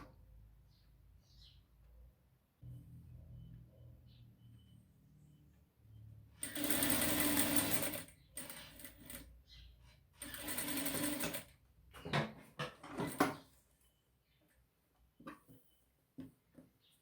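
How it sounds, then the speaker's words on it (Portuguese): Sewing machine stitching just below embroidered trim on a cloth diaper, running in two sustained bursts followed by shorter starts and stops, close and clear in a quiet room with no speech. "E vou passar uma costurinha aqui, ó, bem abaixo do bordado"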